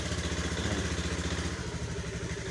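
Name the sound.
Honda Beat scooter engine started with electric starter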